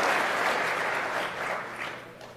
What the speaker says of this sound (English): let's give Seamus a big round of applause.